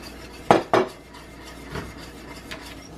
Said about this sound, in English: we're gonna whisk that in and until it's melted in there